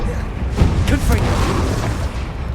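Explosive Confringo spell blasts in a Hogwarts Legacy duel, heavy booming bursts with sharp cracks and rumbling tails, loud and close, layered over continuous combat noise and voices.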